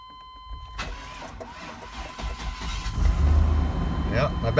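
A 1999 Chevy Suburban 1500 with a slightly low battery cranks briefly and then fires, its engine rising to a steady rumble near the end; a voice speaks over the cranking.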